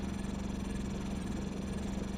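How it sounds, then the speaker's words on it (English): A vehicle engine built in Scrap Mechanic runs at a steady low, rough hum with a fast pulsing flutter, moderately loud and continuous for about two seconds, no voices. "Yeah, this engine just sounds worse than the previous one"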